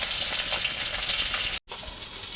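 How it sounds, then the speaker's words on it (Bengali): Koi fish (climbing perch) coated in salt and turmeric sizzle steadily in hot oil, a dense even hiss that cuts out briefly for a split second before resuming. "মাছ ভাজা হচ্ছে দেখুন কী সুন্দর মাছ ভাজা হচ্ছে"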